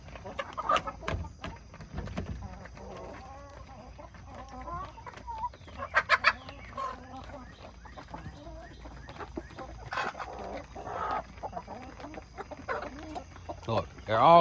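Chicks in a backyard brooder peep and cheep in scattered, fairly faint bursts while crowding around a feed trough.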